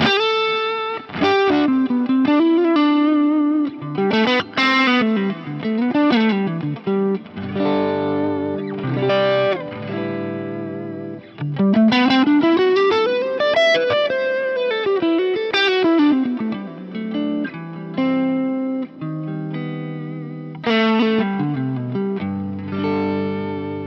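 Thick, saturated Mesa Boogie Lone Star-style electric guitar lead tone from a Fractal amp model, playing a melodic solo with sustained bending notes and soft echo, continuous and up close with no talking.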